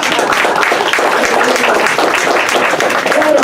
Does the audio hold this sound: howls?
no